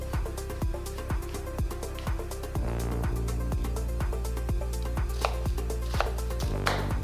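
A knife finely slicing onion on a cutting board, with rapid, steady chopping taps that continue without a break and grow slightly louder partway through. The sound is close and clear, with no talking.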